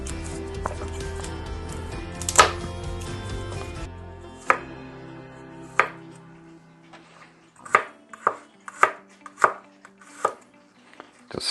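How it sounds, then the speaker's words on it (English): A big kitchen knife slices through food on a cutting board, first in a busy run of cuts, then in distinct sharp chops that thud against the board at a steady pace, close and clear with no talking. "Just slicing it to start with. We're going to end up chopping this."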